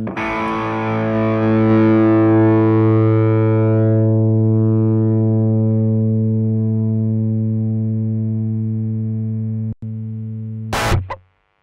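Electric guitar played through the F cabinet simulation of an AMT Pangaea CP-100FX: a loud, distorted sustained chord rings out and slowly decays alone, then is cut off by a brief muted scrape near the end.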